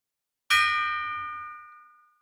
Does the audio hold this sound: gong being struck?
yes